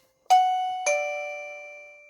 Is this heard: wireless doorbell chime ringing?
yes